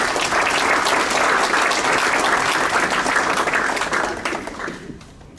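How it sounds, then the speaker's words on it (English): An audience at a school district staff awards ceremony applauds an honoree, steady full clapping for about four seconds before it tapers off quickly and fades near the end. "Let's give Ms. Noonan another round of applause."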